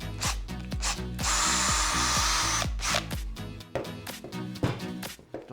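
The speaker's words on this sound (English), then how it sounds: "we'll get Mr. Drill and we'll pop a hole in it" A power drill boring a hole in a DIY cat scratching post whirs in repeated bursts with a sustained grinding run in the middle, close and loud, ending in short choppy spurts.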